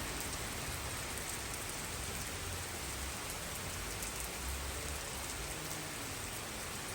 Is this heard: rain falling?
yes